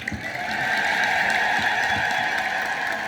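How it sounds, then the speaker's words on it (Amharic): Women in a church audience applauding, a steady dense patter of many hands clapping together for a few seconds. "ሴቶች አጨብጭቡልን።"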